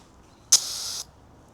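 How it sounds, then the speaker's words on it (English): A bear spray canister fires one short, sharp hissing burst outdoors, loud and close, lasting about half a second against quiet surroundings. "most of the spray went down to the ground"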